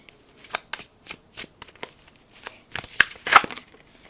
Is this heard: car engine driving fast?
no